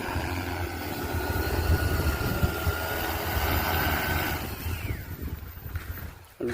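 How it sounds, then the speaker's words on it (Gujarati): A large agricultural spraying drone hovers and flies overhead with a steady, loud droning whir of rotors, holding constant for several seconds before the sound drops away near the end. "ભાઈ ડ્રોન ઉડાડી રહ્યા છે"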